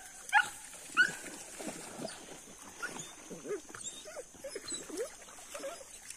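Hunting dogs in a paca hunt yelp, whimper and bark near the water, in a run of short excited calls of varying pitch with a hunter's voice mixed in.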